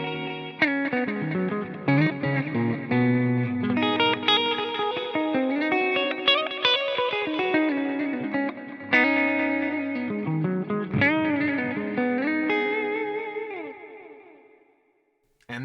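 An electric guitar plays melodic phrases through a multitap delay with moderate diffusion, so the repeats blur into a smeared, echoing trail before ringing out to silence at the end.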